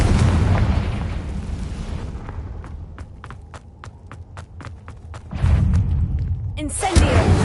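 Confringo spell explosions in Hogwarts Legacy: a loud, rumbling blast opens, then sharp crackling pops and clicks fade and two more heavy booms burst in near the end.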